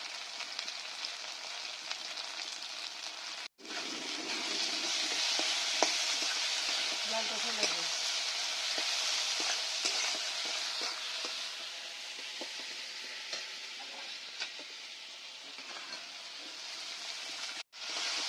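Spices with turmeric, salt, Kashmiri chili powder and cumin powder fry in oil for an egg curry, giving a loud, continuous close sizzle with faint stirring scrapes throughout, briefly broken by two sharp cuts.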